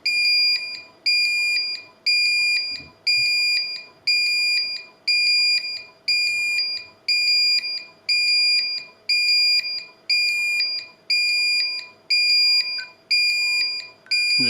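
A Honeywell Galaxy Flex intruder alarm sounds after its detectors are triggered, giving a loud, steady run of evenly spaced electronic beep bursts that repeat about once a second with nothing else heard.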